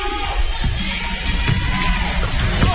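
Fans at a college women's basketball game fill the gym with a steady murmur of crowd noise, with scattered shouts and the thump of a bouncing ball mixed in.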